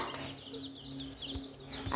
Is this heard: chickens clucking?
yes